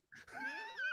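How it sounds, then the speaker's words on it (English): A dog lets out a single brief wheezing whine, a thin, rising, strained note close up and fairly faint, alone in an otherwise quiet moment. "That was my dog. Did you hear him?"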